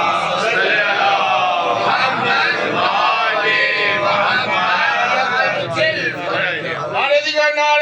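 A religious gathering's crowd responds to a preacher with loud, rhythmic group chanting of salawat, many voices in unison close and full, ending with a few scattered voices.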